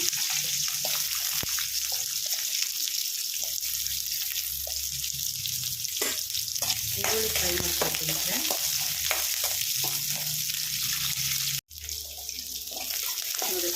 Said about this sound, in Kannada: ಇವಾಗ ಈರುಳ್ಳಿ ಹಾಕ್ಕೊಳ್ತಾ ಇದ್ದೀನಿ ಈರುಳ್ಳಿ ಈರುಳ್ಳಿ ಫ್ರೈ ಮಾಡ್ಕೊಳ್ತೀನಿ